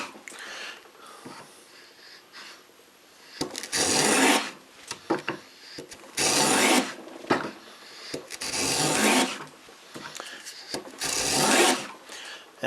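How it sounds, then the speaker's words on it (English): A handmade wooden plow plane cuts a groove in wood, giving repeated rasping strokes, each about a second long with short pauses between, close and fairly quiet. "This is a plow plane that I built."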